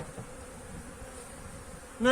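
Honey bees buzz steadily around a hive in early spring, a faint continuous drone close by, with a brief louder sound near the end.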